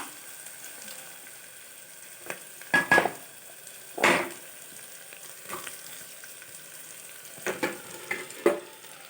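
A soft, constant sizzle of onions frying in a pan, broken by several scraping stirs against the pan at irregular intervals.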